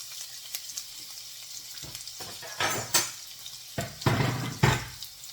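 Garlic and onions hitting hot cooking oil bring sudden loud bursts of crackling sizzle over a quieter background, with a few light utensil taps between the surges.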